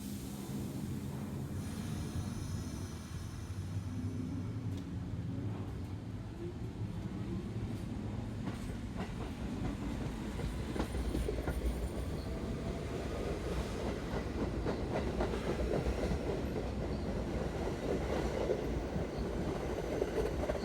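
An NYC Subway A train made up of R179 cars rolls along the line with a continuous low rumble and rhythmic wheel clatter, steady throughout, swelling slightly louder toward the end.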